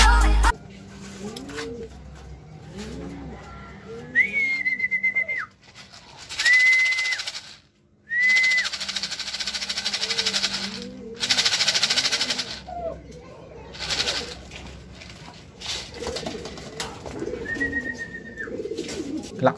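Racing pigeons coo in soft, repeated low rolls near a loft roof during a race arrival, with a few brief whistles and people talking intermittently nearby.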